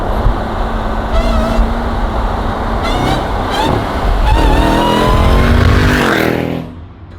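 A Jeep Trackhawk with an aftermarket intake accelerates hard, its loud whining roar climbing in repeated surges alongside road and wind noise before cutting off abruptly at the end.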